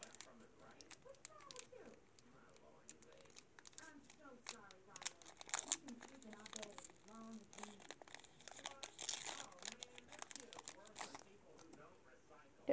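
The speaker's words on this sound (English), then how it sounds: "These packs are hard to open, I swear." A Pokemon card booster pack is torn open with crinkling foil wrapper and scattered tearing, quiet and close, mixed with a voice talking over it.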